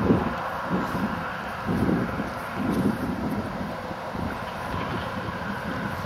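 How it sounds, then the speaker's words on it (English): Steady 7 to 10 mph wind with gusts to about 15 mph buffets the microphone with a low rumbling roar, swelling in gusts now and then, loud and continuous with no voices. "7 to 10 mile an hour wind with gusts up to about 15."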